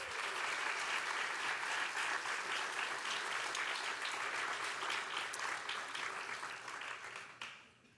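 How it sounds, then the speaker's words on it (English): At a transfer achievement celebration, a large audience applauds medallion recipients with a full, steady wall of clapping that holds for several seconds, then tapers off near the end. "Please give them a big round of applause."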